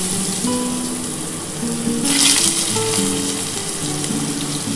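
Potato and papaya pieces frying in hot oil, a steady close sizzle with a brief louder surge midway, no voices.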